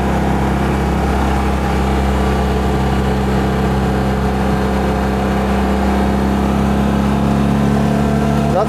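A Citroen 2CV engine labours in second gear up a steep hill, a steady loud mid-pitched drone with engine harmonics held throughout, close up from inside the car, with no talk over it.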